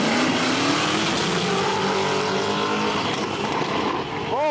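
Forced-induction V8 drag cars with nitrous, blowers and turbos race at a street drag meet. Loud sustained engines roar close by, revs rise through gears, and a commentator talks over the noise.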